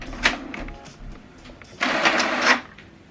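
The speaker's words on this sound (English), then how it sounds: "So this document now is going to print out." An HP printer running a print job from a Windows computer, with soft mechanical clicks and whirs early on, then a louder steady feed-and-print whir for about a second near the end.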